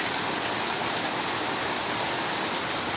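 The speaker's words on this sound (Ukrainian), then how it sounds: "Зночі був дощ, тихенький йшов, а зараз злива." A steady, dense roar of heavy rain pours down on a vegetable garden without a break, loud and close, with no voices.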